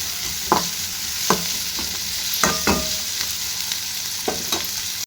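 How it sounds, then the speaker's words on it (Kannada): Onions fry in hot oil over a low gas flame, a steady close sizzle broken by several sharp scraping stirs of a spoon through the pan, with no voices. "ಉಳ್ಳಾಗಡ್ಡಿ ಚಲೋ ಎಣ್ಣೆ ಒಳಗೆ ಫ್ರೈ ಮಾಡ್ಕೊಂಡ್ರಿ"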